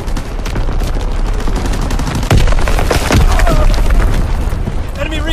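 A heavy bomb blast booms through a video game battle, dense rattling gunfire surrounding it, with a louder impact in the middle and another strong burst about a second later.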